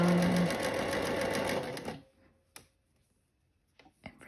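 A sewing machine runs a steady, fast stitch through floral sundress fabric for about two seconds, then stops. A few faint ticks and clicks of handling follow in the quiet.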